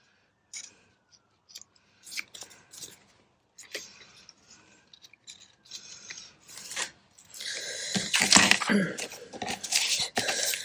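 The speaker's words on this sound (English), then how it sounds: "And then we'll just cut off those edges again." Scissors snip the edges off paper in a card-making session, several close crisp cuts and handling rustles in the first half, then louder rustling and scraping toward the end.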